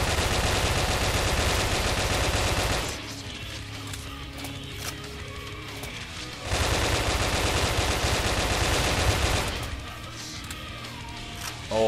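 Rapid automatic gunfire from the blocky shooter Brick Force, loud bursts filling the first three seconds and again from about 6.5 to 9.5 seconds, with quieter scattered game sounds between.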